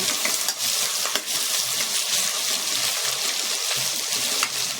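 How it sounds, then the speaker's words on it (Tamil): Onions sautéing over a medium flame in a pan while being made for a traditional kali dish, a steady close sizzle broken by scraping stir strokes, with no talk. "வெங்காயம் கொஞ்சம் டிரான்ஸ்பரண்ட்டாக வரட்டுங்க"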